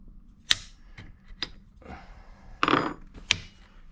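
Rifle upper receiver being taken off, a few sharp metallic clicks and taps of pins and parts spaced unevenly, with a short scraping rattle near the end, close and fairly quiet.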